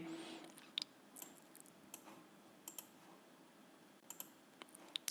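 Faint, sparse computer mouse clicks while filling out and uploading an online exam application form, single sharp clicks spaced irregularly over a low background hiss.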